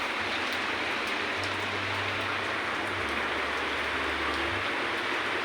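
Steady rain hisses throughout, a dense even wash of falling water with a low rumble underneath, no voices.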